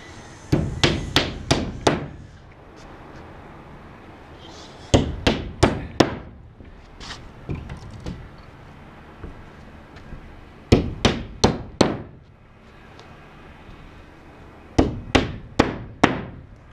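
Hammer driving nails during house framing, struck alone in four fast bursts of four to six sharp blows each, with quiet gaps between bursts.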